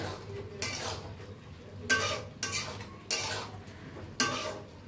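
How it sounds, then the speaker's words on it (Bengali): A spoon scrapes and clanks against a cooking pan while food is mixed, five or six distinct metallic strokes in an uneven rhythm, close and fairly loud, with no talking. "এটা মিক্স করে নিই।"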